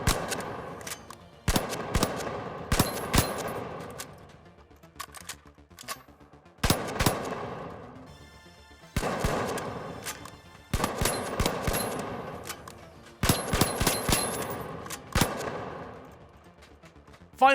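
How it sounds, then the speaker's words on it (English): SA-1216 semi-automatic shotgun firing in the video game The Finals, repeated rapid clusters of sharp loud blasts with brief pauses between bursts, close and alone with no talk. "Next is the SA-1216, an interesting semi-automatic shotgun that can fire many rounds before having to fully reload"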